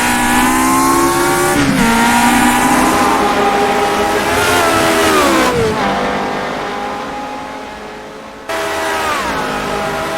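Close, loud race car engine in the rFactor 2 racing game on a triangular road circuit, revving high then dropping through repeated downshifts with sharp gear-change breaks, the pitch sliding down under braking.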